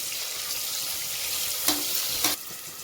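Onions fry with salt in a pan for egg biryani, a continuous close sizzle with two brief clattering stirs near the end and no voices.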